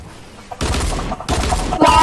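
Dual pistols firing in Fortnite, heard as two bursts of close, loud gunfire, each roughly half a second long, separated by a short gap, with no voices.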